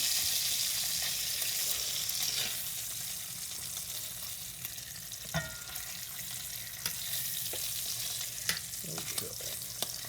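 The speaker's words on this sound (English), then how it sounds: "the bacon's getting close to being done" Bacon fries in a pan with a continuous crackling sizzle, scattered sharp pops and spits rising above the steady hiss at close range.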